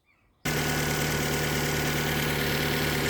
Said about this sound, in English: So this is the engine running now.